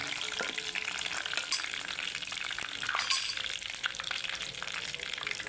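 Curry leaves hiss and crackle in hot oil with fried spices in a pan for a mushroom curry, a steady close broadband sizzle with small pops and brief surges throughout, no talking.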